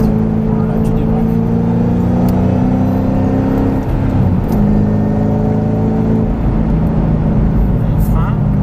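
A Ford Mustang GT500 powers out of a corner on a circuit during a driving course, its engine rising in pitch through long pulls up close and loud, with a brief shift pause midway.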